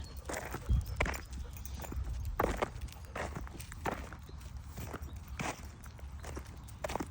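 A temple dog walks along a Thai temple path, its paws giving a steady run of soft, close footfalls over a low background rumble, with no talking.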